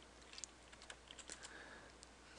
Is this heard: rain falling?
no